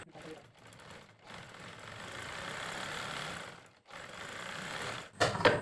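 A sewing machine stitches the side of a panjabi button placket, a continuous rapid mechanical hum with brief pauses, close by, while a voice talks over it.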